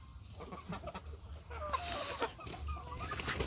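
Darag native chickens in a penned backyard range house cluck softly and intermittently, short scattered calls over faint rustling and background noise.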